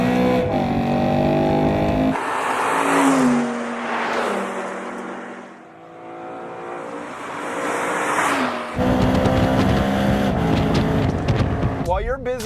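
A high-revving engine screams and drops in pitch between gear changes, loud and close, with occasional bursts of noise.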